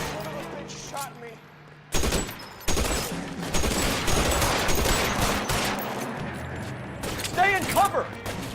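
Gunfire in an L.A. Noire Remaster shootout: loud bursts of shots and rapid fire after a quieter start, continuing densely with a voice calling out between volleys.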